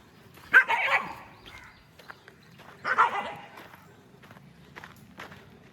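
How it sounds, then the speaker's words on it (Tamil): A dog barks inside a crumbling government school building in Pudukkottai district, giving two loud, close bursts of barking a few seconds apart, with quieter footsteps and small knocks between them. "நாய் உள்ளே வந்துருக்கு, கேட்குறதுக்கு ஆள் இல்லை."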